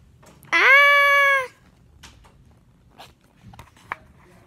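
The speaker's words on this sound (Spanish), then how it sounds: "¿Es un gato?" A single loud, drawn-out cat meow lasting about a second, followed by faint rustling and small scattered noises.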